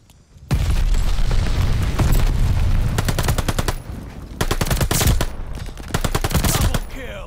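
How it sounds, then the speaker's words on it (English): Video game firefight with loud bursts of rapid machine-gun fire and heavy booms from an incoming enemy glide bomb, dense and continuous with brief lulls, close and loud throughout. "Got an enemy glide bomb on the way."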